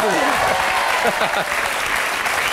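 Studio audience on a French TV variety show breaks into loud, steady applause, a dense continuous clatter of clapping that holds for the whole stretch, with a few voices audible beneath it.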